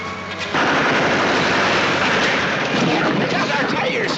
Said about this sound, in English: Shoot out their tires.